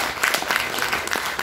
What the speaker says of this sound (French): on peut l'applaudir à nouveau